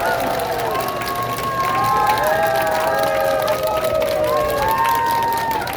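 Crowd at an outdoor Korean election campaign rally: loud cheering, shouting and clapping from many people, with melodic voices and music-like tones riding over a dense, continuous roar.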